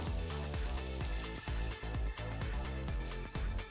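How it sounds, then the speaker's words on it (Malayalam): Coconut oil sizzling steadily in a hot pan for a Kerala-style beef pepper roast, a loud continuous hiss and crackle with no talk. "പൗഡർ നമ്മുടെ പാൻ നന്നായിട്ട് ചൂടായി കഴിഞ്ഞു നമുക്കിതിലേക്ക് 3 സ്പൂൺ വെളിച്ചെണ്ണ ഒഴിക്കാം"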